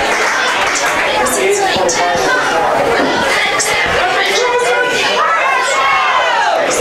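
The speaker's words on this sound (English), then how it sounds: "Crowd's letting everyone know it's a first down." A high school football crowd at Cedar Catholic versus Twin River cheers and shouts after a first down, a dense, sustained roar of voices and chatter throughout.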